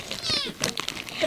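A cat gives a short, rising meow, then a few softer sounds follow nearby, all faint and brief.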